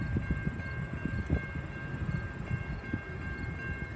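A westbound freight train passes nearby with a continuous rumble of rolling cars, steady clattering wheel noise and a faint high ringing tone above it.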